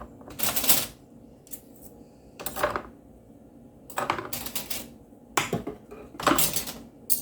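Knives and other cutlery clatter into a kitchen drawer in several separate handfuls, sharp metallic jangles and clinks broken up by short quiet gaps, close by with no talking.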